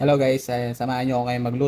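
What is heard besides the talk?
None of the usual background noises is heard.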